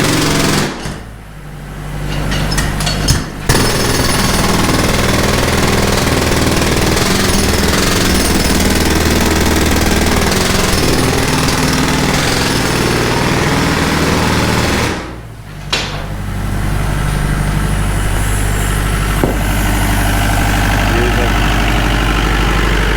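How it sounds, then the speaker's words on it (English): Jackhammers, 60 and 90 pound units powered by an Atlas Copco diesel compressor, pound through a concrete garage floor in a loud, dense, continuous rattle, briefly pausing twice, with the engine droning underneath. "So basically they're getting it all squared out with the jackhammers."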